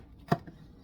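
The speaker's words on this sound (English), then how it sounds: "The peppers, just going to cut the end off." A knife slices the end off a bell pepper on a cutting board, one short, crisp cut standing alone against near silence.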